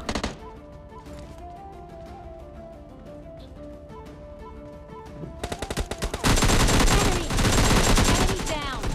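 Gunfire in PUBG Mobile Lite: scattered single shots at first, then dense sustained bursts of automatic fire growing loud and continuous over the last few seconds, close up.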